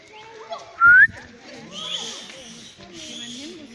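A single short, loud, rising whistle comes from an animal at the Nuremberg zoo. Quieter chatter from adults and children continues around it.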